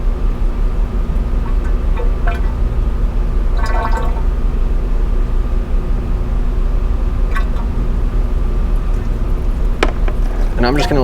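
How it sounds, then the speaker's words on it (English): Rear differential fluid from a VW Touareg running out of the drain hole into a catch pan, a steady trickle with scattered drips over a constant low background hum. "I'm just going to let that drain until it stops dripping completely"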